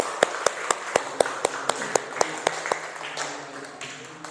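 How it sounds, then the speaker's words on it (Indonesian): A classroom of students claps in a crisp, evenly spaced rhythm of sharp single beats that gradually blur into softer, scattered clapping and room noise. "tepuk tangan untuk kelompok 2"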